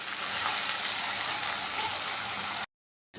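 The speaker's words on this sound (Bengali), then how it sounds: "আদা বাটাটা দিয়েও ভালো করে কষিয়ে নেব" Spice paste with ginger paste frying in oil in a pan, a steady loud hiss throughout that cuts out abruptly near the end and then resumes.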